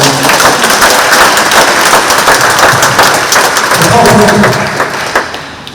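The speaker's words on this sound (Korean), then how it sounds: "박수 한번 쳐주십시오" A prayer-meeting audience breaks into loud, dense applause, a continuous close wash of clapping that tapers off toward the end with a faint voice underneath.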